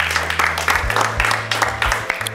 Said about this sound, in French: on peut applaudir Eden une dernière fois s'il vous plaît